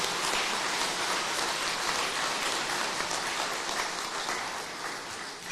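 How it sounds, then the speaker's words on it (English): Dense applause from an audience at the Wellington Regional Sports Awards honouring the finalists, a thick rain-like wash of many hands clapping at once that stays full for several seconds and eases slightly near the end. "Let's have a round of applause for our finalists."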